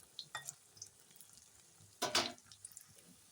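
Soybean chunks frying quietly in a pan, a low steady sizzle with light scrapes and one louder rustling burst near the middle.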